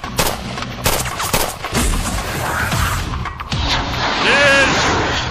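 Heavy gunfire and rocket fire from a battle scene in a Turkish TV war drama, with dense bursts of automatic shots and blasts. A rocket whoosh comes near the end, and shouting voices can be heard within the chaos.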